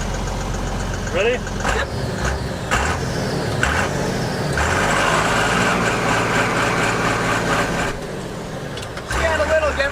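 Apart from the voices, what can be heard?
70s Ford F250 with tractor diesel engine doing second gear launch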